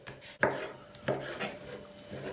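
A knife cuts chicken into thin julienne strips on a board, giving three sparse, crisp chopping knocks spaced under a second apart, close and fairly quiet.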